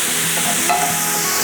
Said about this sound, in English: while it sounds like there's a lot of sizzle, this is going to take quite some time